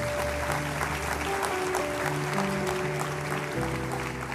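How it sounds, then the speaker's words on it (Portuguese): Audience at a youth church conference claps in sustained applause, a dense steady patter over held keyboard chords playing underneath. "Vamos dar um aplauso ao Senhor pela vida"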